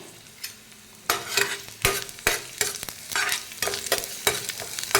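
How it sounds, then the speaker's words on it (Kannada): Half an onion and a clove or two of crushed garlic fry in hot oil, crackling and sizzling steadily with sharp bursts as the pan is stirred, close and fairly loud, with no talking. "ಇವಾಗಿದು ಫ್ರೈ ಆಗ್ತಿದ್ದಾಗೇ"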